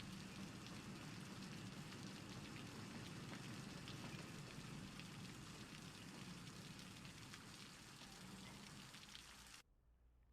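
Steady rain falls in a city-building game with passing Amtrak trains. It makes a soft, constant patter with faint crackle that runs evenly, then cuts off abruptly near the end.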